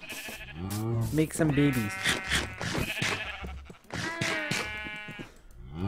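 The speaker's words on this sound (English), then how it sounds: "Hello, sheep." Minecraft sheep bleat in a wavering, repeated call alongside a person talking over them, the bleats close and fairly loud.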